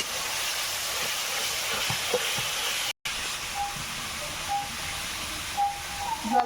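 Water poured into ground spice paste frying in a pan sets off a loud, steady hiss of steam that fills the whole stretch, broken by one brief cutoff midway, with faint clinks in the background.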